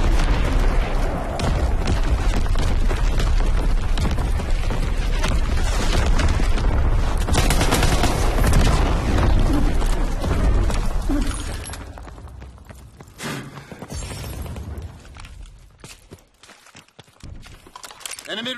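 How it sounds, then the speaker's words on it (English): Incoming enemy artillery fire in a video game rumbles and booms in a dense, sustained barrage with scattered gunshots, loud at first and then thinning into sparser blasts and crackles. "Incoming enemy artillery. Get to cover."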